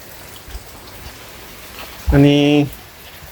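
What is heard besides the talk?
heavy monsoon rain falling in a village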